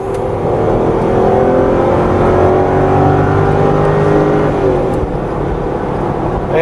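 A Jaguar 4.4-litre V8 of about 320 horsepower, fitted in a Land Rover overland build, revs steadily and loudly for several seconds with a smooth, continuous engine drone and rising tones, with no talk.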